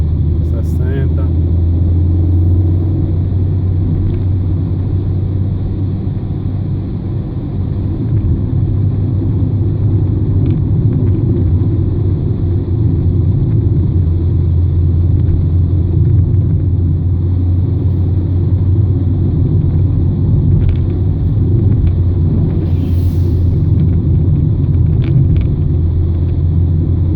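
A car engine drones steadily with a low rumble while descending the Serra do Marçal mountain road in light rain, held in fourth gear for engine braking; the hum stays constant throughout, close and continuous.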